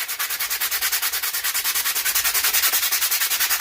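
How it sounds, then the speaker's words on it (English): Steady, rapid back-and-forth scraping of sandpaper on wood, a rhythmic rasp repeating about eight times a second, close and fairly loud with no talk. "Sanding is part of woodworking, but I hate it."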